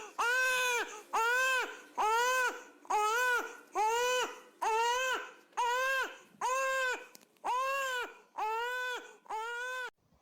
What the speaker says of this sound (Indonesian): mendengar suara tangisan bayi itu